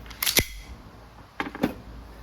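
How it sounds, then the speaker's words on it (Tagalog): Two sharp, close shots ring out from an all-black EMG John Wick 4 Pit Viper gas blowback airsoft pistol, each a crisp crack with a slide clack, about a second apart with quiet between. "Testing John Wick 4 Pit Viper all black version and firing."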